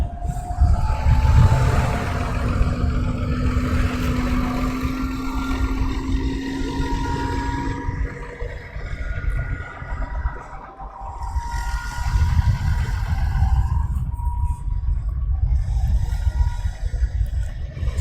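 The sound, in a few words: EasyJet airliner engines running on airport test bed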